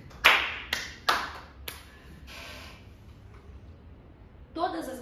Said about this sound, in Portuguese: Aplaudam ela de um jeito muito lento.